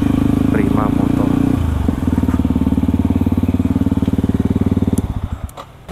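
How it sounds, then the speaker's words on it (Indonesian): Heavy motorcycle engines idle and rev at close range at a big-bike dealer, a steady loud throbbing rumble that shifts pitch partway through and sputters toward the end, with voices talking over it. "ini mah moge semua di sini, Jok."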